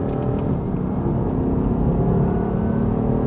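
A BMW M3 engine with paddle-shift gearbox runs steadily throughout, a loud, close, continuous drone with a rough harmonic growl and no clear revving swings.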